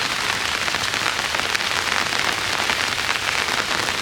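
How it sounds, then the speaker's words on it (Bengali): Heavy rain pours down over open farm fields in rural Bengal, a dense, steady, close hiss of drops with no pauses or voices. "প্রচণ্ড হারে বৃষ্টি হচ্ছে।"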